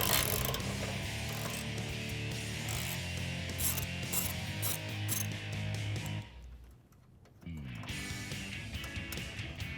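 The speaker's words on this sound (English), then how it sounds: "we're going to need a 10mm socket and a ratchet" A socket ratchet works a 10mm bolt on a Jeep Wrangler JK, its rapid clicking pawl running steadily and close, pausing briefly before resuming.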